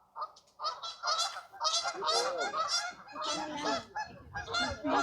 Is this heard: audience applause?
no